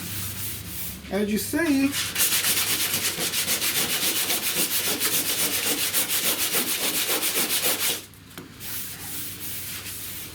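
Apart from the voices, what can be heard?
red scuff pad scrubbing heavy rust off a 1970 Buick Wildcat hood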